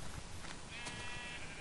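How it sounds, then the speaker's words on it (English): Sheep bleating in the Minecraft video game, a short, clear bleat rising briefly over a continuous busy game soundscape. "Wow, sheep."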